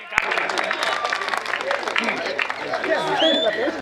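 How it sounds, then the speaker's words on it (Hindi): Loud, dense audience applause at a Hindi poetry recitation event, continuous clapping with crowd babble and cheering voices mixed in throughout. "तालियां जोरदार।"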